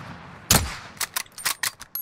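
Gunfire from Call of Duty Warzone, with a Kar98k bolt-action rifle: one loud close shot near the start, then a rapid run of sharper, more distant cracks.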